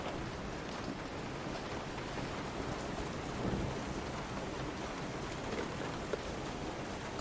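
Heavy rain with low rumbles of thunder in the horror video game Resident Evil 7, a steady loud hiss that fills the whole stretch with a brief swell midway.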